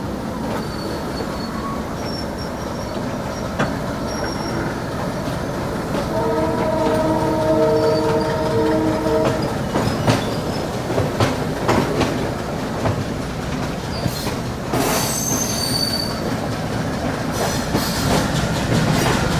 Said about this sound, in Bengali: আস্তে আস্তে ট্রেনের গতি বাড়ছে